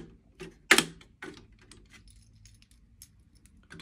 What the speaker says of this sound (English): These are the keys to open or close the